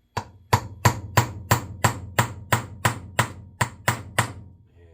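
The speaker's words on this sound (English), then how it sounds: "I'm going to start out with a small brass hammer." Small brass hammer tapping a punch on a vintage D.A.M. Quick Finessa fishing reel under repair: about a dozen sharp metallic taps at a steady, even rhythm, close and clear, with no talking.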